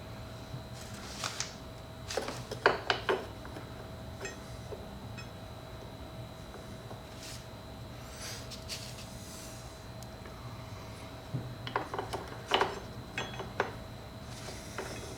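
A wrench snugs the front brake bolts on a BMW K1600 motorcycle with small clusters of quiet ratcheting clicks and metallic ticks, separated by long near-silent pauses.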